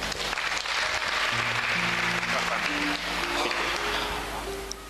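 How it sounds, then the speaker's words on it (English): Audience applause at a church testimony service, steady clapping with some tonal sounds underneath, holding at an even level for the whole span. "can we clap our hands for eMabuthweni?"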